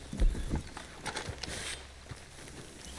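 In a video game, horse hooves clip-clop faintly in an uneven walking rhythm, with a few heavier thuds early on over a low background hum.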